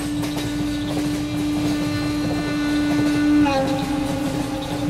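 A train rolls along steadily in a Malayalam thriller film, a continuous rumbling drone with a sustained tonal hum that shifts pitch partway through, heard up close from inside the carriage.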